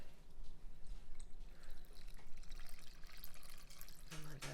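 Goat milk poured through a paper filter in a strainer, a steady wash of liquid streaming and trickling throughout, with a brief low gurgle near the end.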